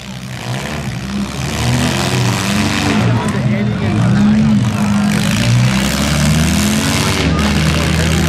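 At a stock mini demolition derby in Schomberg, Ontario, a battered car's engine cranks and revs loudly as it tries to restart, a continuous droning roar up close with an announcer talking over it.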